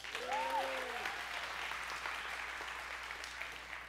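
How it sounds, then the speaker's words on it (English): A church audience claps in a warm burst of applause that stays steady and then gradually thins, heard at moderate distance, with a brief voice at the start. "So give Paul a hand"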